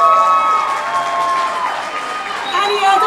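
An audience at a hometown heroes press conference cheers and applauds an honoree, a brief loud burst of clapping and whooping voices with crowd chatter underneath.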